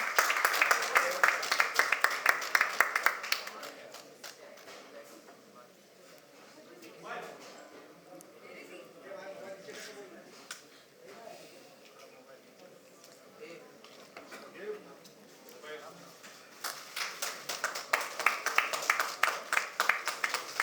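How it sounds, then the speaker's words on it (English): Crowd applause for Salman Khan at a Filmfare Awards press conference swells at the start, fades under a speaking voice, then returns strongly near the end. "A huge round of applause for Mr. Khan."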